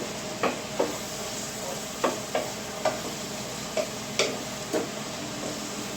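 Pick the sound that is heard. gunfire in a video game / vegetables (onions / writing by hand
vegetables (onions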